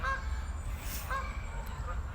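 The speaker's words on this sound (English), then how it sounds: "I come to see my duck friends." Ducks honking loudly outdoors at a nature spot, overlapping excited calls close by in a dense, continuous clamor with no clear pauses.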